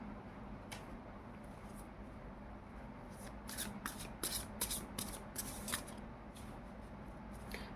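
Oracle cards for a tarot reading are shuffled in a quiet room, a soft patter of riffling and sliding cards building into a brisk burst of flicks before easing off. No one speaks.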